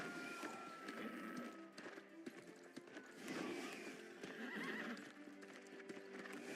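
A horse in the online game New World whinnies while its hooves clip-clop steadily, heard fairly quietly with faint background noise.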